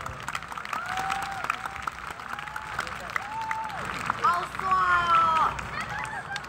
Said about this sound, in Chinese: 我们来一个掌声